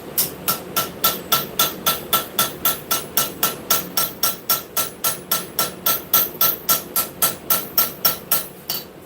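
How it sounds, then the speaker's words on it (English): A small auto body hammer, about 26 years old, strikes metal at a forge: around thirty sharp, ringing blows in a steady, brisk rhythm, close and clear with no voices. "We're going to be using this little bitty old hammer right here. Auto body hammer."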